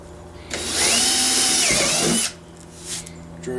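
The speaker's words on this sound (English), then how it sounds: "Drill your holes like so." An electric drill with a 3/8 inch bit whirs loudly for under two seconds, its pitch dipping as the bit bites, then spins down into near quiet.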